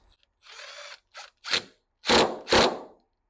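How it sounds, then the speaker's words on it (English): A power tool used as a torque wrench loosens the bottom fork bolt on a 1986 Honda XR80 motorcycle in several short, sharp bursts of whirring, close and loud, separated by silences. "You won't be able to do this by hand. You're going to have to use a little torque wrench."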